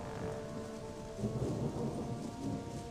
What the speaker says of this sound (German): Ach, ich mag diesen Regen.